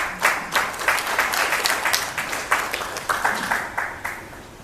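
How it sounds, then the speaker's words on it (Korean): Audience at a breakfast forum claps for an incoming speaker, a sustained round of many hands with sharp, dense claps, moderately loud and steady throughout. "여러분 큰 박수 부탁드립니다."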